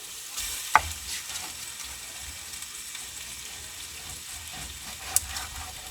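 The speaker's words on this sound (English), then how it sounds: "We're going to add this bacon. We're going to cook it until it's crisp." Bacon frying in a pan for corn chowder, a steady close sizzle and crackle with a couple of sharp clinks from a utensil against the pan.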